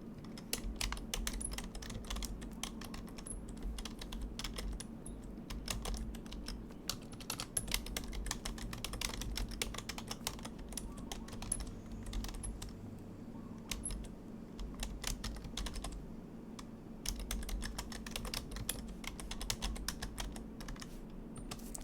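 Fingers type on a computer keyboard, giving a continuous rapid patter of light key clicks at close range, steady throughout, with a low background hum and no talking.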